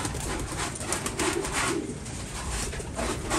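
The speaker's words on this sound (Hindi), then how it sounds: "ये कबूतर आज पकड़ा है" A freshly caught pigeon cooing outdoors amid steady background noise, soft repeated coos throughout at moderate distance.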